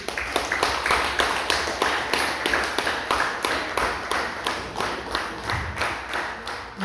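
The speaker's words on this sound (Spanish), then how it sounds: "Déselo fuerte el aplauso" A church congregation applauds in a steady rhythmic beat, even hand claps repeating about three times a second for several seconds. The clapping is fairly loud and continuous, with no speech over it.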